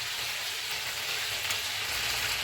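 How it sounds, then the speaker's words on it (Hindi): Chicken with ginger-garlic paste frying in a pan for a biryani, giving a steady, close hiss of sizzling oil that holds level throughout with no talk. "इनको 1 मिनट तक भूनेंगे।"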